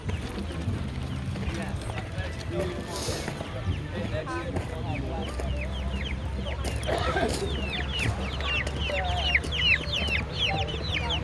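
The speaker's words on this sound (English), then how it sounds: "Are these chickens or turkeys? Chickens." Chickens cluck and chirp repeatedly in the background, with people talking and low music running underneath.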